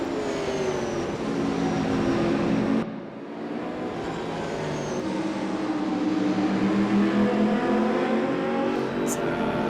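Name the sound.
race car engine in a sim racing game at Brno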